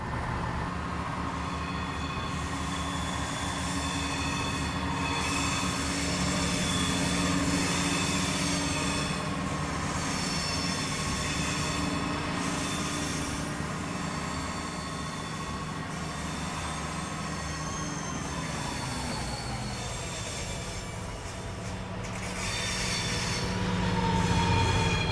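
A train in the Train Simulator 2020 game rolls steadily along the track, with a continuous rumble, rail noise and wheel squeal that stay loud throughout and shift in pitch near the end.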